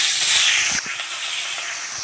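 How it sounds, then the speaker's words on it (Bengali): Rohu fish pieces go into hot oil and give a loud, steady, close sizzling hiss that eases slightly after a moment, with no talk. "তো ভাজা বসিয়ে দিয়েছি।"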